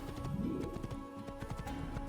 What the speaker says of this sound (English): Let us go, my horse pal.